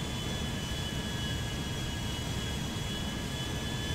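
A giant Air France airliner's jet engines drone steadily in a flight video game, a loud, constant roar with a faint high whine, with no talking.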